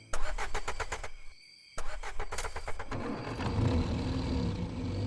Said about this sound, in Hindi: उसने डर को किनारे कर दिया और अपनी पुरानी टैक्सी को स्टार्ट कर दिया।